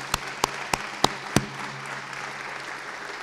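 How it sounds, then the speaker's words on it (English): Applause for Hall of Fame inductees at a university sports reception, a few loud, sharp claps near the microphone standing out over a softer, thinner patter of clapping in the room. "Let's give one more round of applause to all of our inductees."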